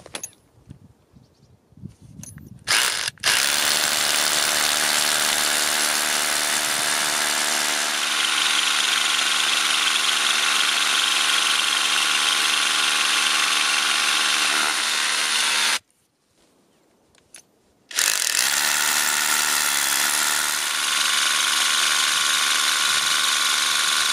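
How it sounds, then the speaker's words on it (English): A power drill bores into cave rock, running loud and steady for long stretches, stopping briefly midway before starting again with the same high, grinding whine. "we're going to be looking to drill just beyond the end of the flutes"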